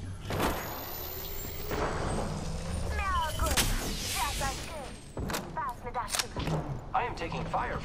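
Gunfire in the video game Apex Legends, sharp repeated shots and impacts in quick bursts mixed with game effects and a voice talking throughout.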